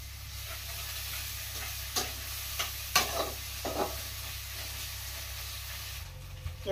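Ginger-garlic paste sizzles steadily in a pan for a matar paneer curry, a constant hiss broken by a few sharp spoon scrapes and taps.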